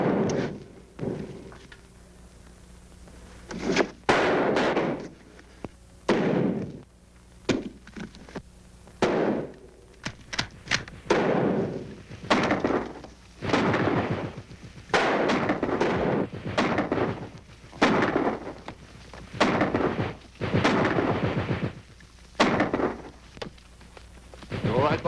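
Gunfire in a 1942 war film execution scene: a dense run of sharp shots and bursts, some close and loud, others rapid and overlapping, filling most of the scene after a brief quieter opening.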